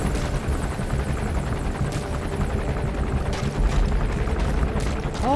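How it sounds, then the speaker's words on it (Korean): Helicopter in Metal Gear Solid V: The Phantom Pain, a steady whirring rotor drone with a low rumble, joined by scattered sharp bursts and a brief rising tone at the end. "아, 저 헬기."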